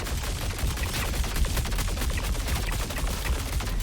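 Fresnel Volt LMG fired in a video game, a dense, sustained stream of rapid automatic shots with no pauses, loud and close, heard on its own without speech.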